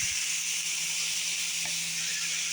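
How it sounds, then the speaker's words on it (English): Chicken breasts sear in oil on a hot flat iron skillet over medium heat, giving a steady, even sizzling hiss throughout with a low constant hum beneath. "I'm just putting the chicken breasts that were in the Ziploc right on the skillet"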